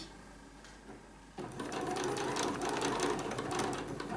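A sewing machine stitching a triangle patch pocket starts after a quiet moment and runs at a steady, close, rapid mechanical rhythm to the end.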